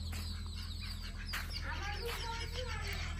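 Chickens cluck and call at a rural family home, with ducklings nearby, over steady low background hum and a faint voice; the calls come in short bursts at moderate distance.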